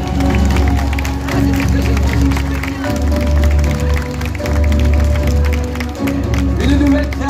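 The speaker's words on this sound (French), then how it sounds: "sous vos applaudissements" At a cosplay parade during a Japanese pop culture show in St-Malo, crowd applause mixes with loud stage music carrying strong low beats, the clapping partly buried beneath the soundtrack.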